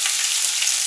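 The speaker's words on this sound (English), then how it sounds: "So I have some olive oil heating up on the stove. I'm going to add my ginger and my scallions." Ginger and scallions fry in hot olive oil on a stovetop, a dense, even hiss of sizzling that stays loud and close for a brief moment.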